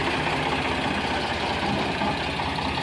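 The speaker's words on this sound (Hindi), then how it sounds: "लो भाई दूसरा ट्रैक्टर लेना है भैया ये रहा इस 485" A 485 HD tractor engine idles with a steady, dense, continuous rumble, loud and close, with no voices over it.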